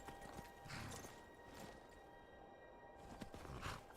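Horse hooves clip-clopping at a slow walk in Skyrim, a few soft steps over faint ambient game noise, heard at moderate distance.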